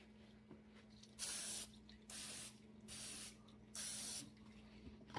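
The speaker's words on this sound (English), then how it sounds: "We'll do it real easy. We'll spray them." Four short bursts of aerosol cooking spray onto foil cups, each a steady hiss lasting about half a second to a second, separated by brief pauses.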